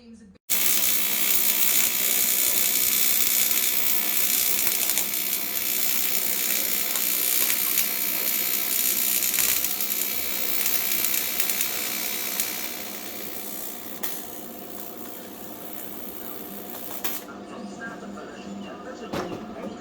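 Welding on a Nissan S15 car body, a continuous loud crackling buzz that runs almost twenty seconds, rough and sputtering, then stopping abruptly near the end; close and dominant with no voices over it.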